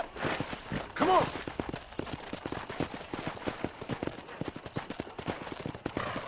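In the Red Dead Redemption video game, horse hooves clip-clop in a quick, steady galloping rhythm while cattle are herded. Brief voice sounds stand out early, and the hoofbeats carry on at a moderate level.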